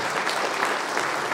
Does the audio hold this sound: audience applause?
yes